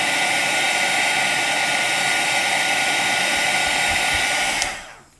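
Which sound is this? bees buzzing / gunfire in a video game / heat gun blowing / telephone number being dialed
heat gun blowing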